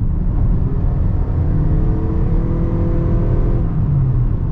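Engine of a 2023 Toyota Crown Sport Z hybrid SUV with an A25A engine, heard from inside the cabin while accelerating: a muted, steady low drone with rising tonal harmonics, held back by sound insulation, with no talk over it.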